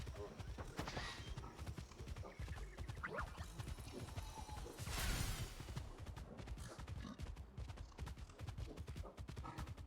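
Horse hooves clip-clop in a steady, fast rhythm while riding in a cozy pony game, moderately loud and continuous, with a busier swell of noise around the middle.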